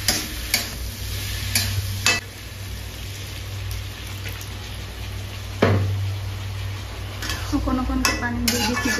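Jackfruit flower curry being stirred in a pan, a soft scraping and sizzling texture with a few sharper clinks, over a steady low background hum.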